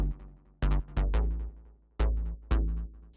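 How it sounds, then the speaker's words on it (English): Short, punchy synth bass notes plucked in a quick rhythmic pattern, each decaying fast, played solo with no other sounds. "Same goes for the bass short sound."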